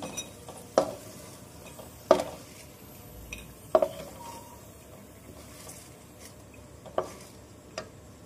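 Spoon scooping fried cashews out of hot ghee in a kadai, sparse metallic scrapes and clinks at irregular intervals over a faint background, close and fairly quiet.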